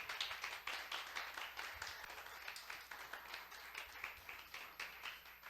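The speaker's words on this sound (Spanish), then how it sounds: "Yo creo que eso merece un aplauso en esta mañana." A Sunday church congregation claps during a sermon, a faint, distant patter of many hands with a loose rhythmic pulse running steadily throughout.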